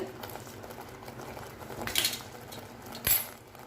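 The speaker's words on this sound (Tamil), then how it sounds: "இது நல்லா கொதிக்க ஆரம்பிச்சிச்சு" Low, steady bubbling and simmering of thick paneer pasanda gravy in a pan, with a couple of brief clinks or sizzling bursts partway through.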